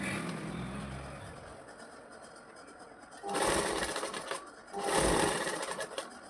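A sewing machine stitching around a blouse neckline runs in two loud, steady bursts of rapid whirring needle rattle, each lasting about a second, after a quieter stretch of room noise.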